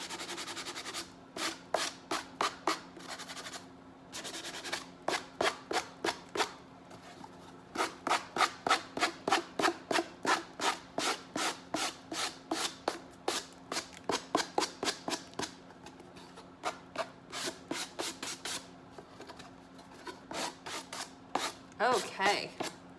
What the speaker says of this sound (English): Hang on, I've got a better sanding block right here.